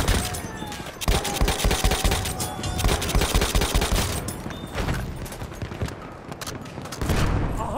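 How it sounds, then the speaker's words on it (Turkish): Rapid bursts of Chauchat machine gun fire in a Battlefield 1 battle on the Suez map, loud and close, with dense repeated shots rattling through most of the stretch and brief pauses between bursts. "Makine tüfek."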